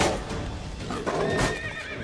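A horse neighs loudly in The Witcher 3: Blood and Wine, a shrill whinny up close amid clattering hooves and game noise, with no speech.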